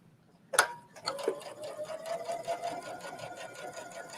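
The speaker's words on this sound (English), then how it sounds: "And I'm stitching just inside of my seam, so it's about 1/4 of an inch." A sewing machine stitches just inside a garment seam about a quarter inch in, a short mechanical clack followed by a steady, close rhythmic whirr that runs on without talk.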